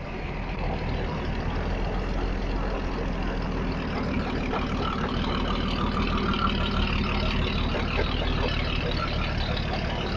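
Fowell steam traction engines at an outdoor steam rally at Old Warden in Bedfordshire, a continuous low mechanical rumble with a steady churning rhythm running throughout, close by, with people talking over it.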